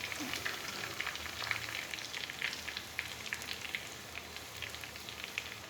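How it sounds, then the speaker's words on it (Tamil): Chicken deep-frying in hot oil, a steady dense sizzle with fine crackling pops running throughout at moderate loudness, no voices. "அப்படி சிக்கன் எண்ணெயில் பொரியும் போதுங்கண்ணா"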